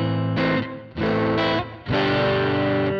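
Electric guitar played through a Boss ME-90 multi-effects unit set to a Fender Tweed amp emulation, loud, driven chords ringing out in three sustained bursts with brief gaps between them, no voices.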